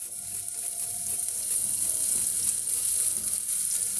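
Mustard seeds, asafoetida, cumin, grated ginger, chili and tomato sauté in hot oil, giving a steady close sizzle with occasional stirring clatter and no talk.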